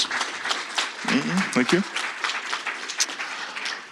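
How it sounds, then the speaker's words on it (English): Brief round of audience applause for two speakers at a policy symposium, a steady patter of clapping across a few seconds with a speaker saying a short thanks over it. "If I could have a brief round of applause for our two distinguished speakers."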